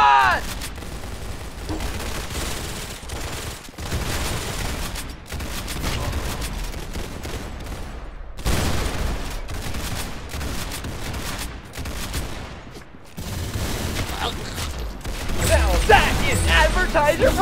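Gunfire in the Roblox game Arsenal fills the stretch with repeated loud volleys and rapid automatic bursts, broken by brief gaps, while a voice talks intermittently over the shooting.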